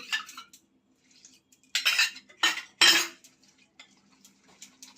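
A spoon clinks and scrapes against a bowl while water is mixed into uttapam batter, with a few sharp metallic knocks bunched in the middle between quieter stirring.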